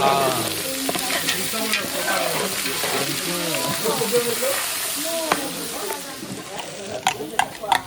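Onion tipped into a hot frying pan hisses into a steady, close sizzle, with stirring scrapes and taps and a few faint voices in the background.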